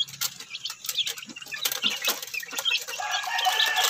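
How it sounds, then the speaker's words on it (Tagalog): A flock of breeding chickens kept on a small poultry farm clucks busily at close range, with bursts of flapping wings and scratchy movement throughout. "yung ating third batch na manok"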